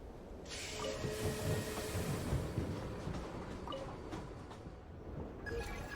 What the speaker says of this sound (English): Suddenly, train.